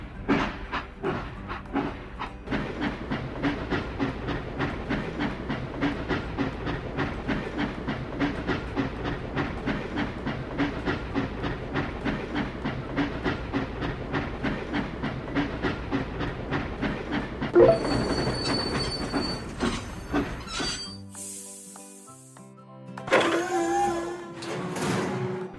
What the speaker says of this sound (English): We need to send the train to the depot.